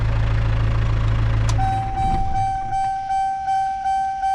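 A Chevrolet Tahoe fitted with a Cummins diesel engine is switched off: a low, steady idle rumble cuts out abruptly. A high electronic chime then pulses repeatedly in the quiet that follows.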